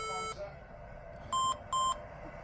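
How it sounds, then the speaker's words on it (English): An HP ProBook 640 G4 laptop beeping at power-on gives short, clean electronic beeps in quick succession, loud and close, against a quiet background hum. "it's making a beeping sound when you power on"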